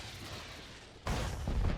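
A cannon blown up in Star Wars: The Old Republic, heard as a sudden loud blast that cuts in abruptly after a quieter stretch and rolls on with a heavy, dense rumble, followed by a second surge of noise.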